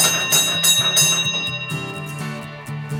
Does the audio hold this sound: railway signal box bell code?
yes